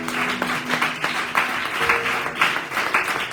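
A church congregation at a Sunday thanksgiving service applauds with steady, sustained clapping from many hands, filling the room without a break.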